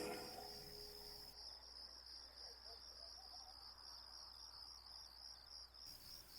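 Crickets chirp steadily through a quiet night, a continuous high, pulsing trill that holds at a moderate level from start to finish with no voices.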